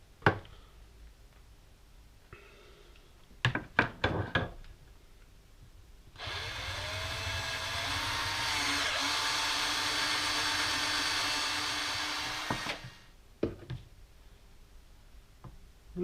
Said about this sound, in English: I'll have to drill the fiberglass out to suit the tube